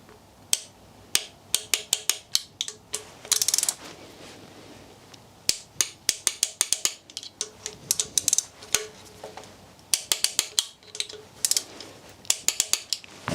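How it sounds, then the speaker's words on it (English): A torque wrench ratchets sharp clicking bursts while tightening timing chain guide bolts on a Mini Cooper N14/N18 engine being rebuilt, the quick clicks coming in repeated clusters separated by short pauses in a quiet workshop. "Okay, so now I can begin torquing down all of the bolts."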